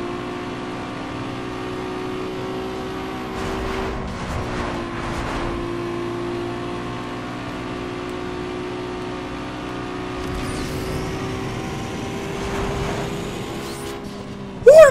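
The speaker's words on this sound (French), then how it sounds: "Ouh, le moteur il a failli péter." Car engine racing in the video game Need for Speed Underground 2 during a drag race, a steady loud droning rev that holds high throughout with shifting pitch, running alone without talk.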